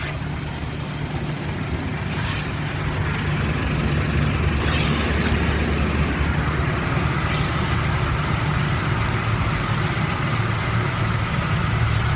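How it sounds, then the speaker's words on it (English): High-power air dryers in a car wash tunnel blow a loud, continuous roaring rush of wind over a steady low machinery drone, with a few brief hissing surges. "Here comes a high power wind."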